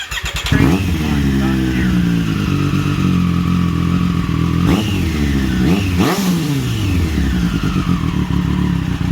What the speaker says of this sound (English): That's a proper sounding exhaust.